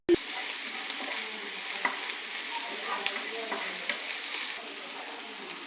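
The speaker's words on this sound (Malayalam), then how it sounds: "നല്ല ജീരകം ഒന്ന് വഴറ്റാം." Cumin seeds sautéing in a hot pan for rasam give a continuous close sizzle with scattered crackles and pops, steady and loud throughout, one sharp knock at the start, no voices.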